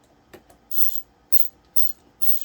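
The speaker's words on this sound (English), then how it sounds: "Now I have a ratcheting screwdriver, so it makes this process a lot easier." A ratcheting screwdriver drives screws into a handle, with a few faint ticks and then four short, loud, evenly spaced bursts of rapid ratchet clicking close by.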